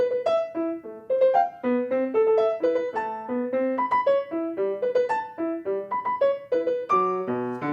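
Piano mimics hiccups: short, jumpy chords and sudden high stabs in a bouncy, stop-start rhythm, played loud and close with no voices.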